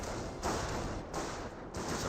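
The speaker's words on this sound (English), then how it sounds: "There's strafe run there." Strafing-run gunfire from an aircraft in Company of Heroes, a dense roar of rapid fire with heavy thuds, swelling in bursts over about two seconds and fairly loud throughout.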